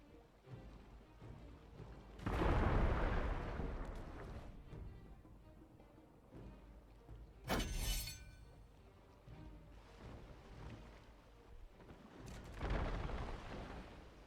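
Torpedo strikes hit ships in naval combat in the strategy game Humankind, heard as a few heavy, booming blasts spaced several seconds apart, each swelling and fading over a quiet rumbling backdrop.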